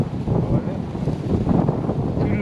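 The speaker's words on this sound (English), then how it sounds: "I hope you guys can hear me because it's windy." Steady, loud wind buffets a microphone outdoors on a fishing trip in Okinawa. The rumble lasts the whole clip with no clear speech.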